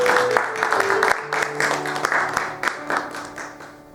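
A church congregation bursts into steady clapping and applause, loud and close, while organ or keyboard chords sustain underneath and fade toward the end.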